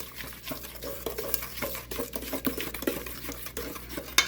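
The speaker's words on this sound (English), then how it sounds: "I'm going to stir this together, and I'm going to add in my white." Brown sugar being stirred in a bowl for blondies, repeated rhythmic scraping and clinking of a utensil against the bowl, close and moderately loud, with no voices.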